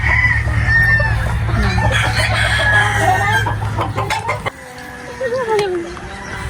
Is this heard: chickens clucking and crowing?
yes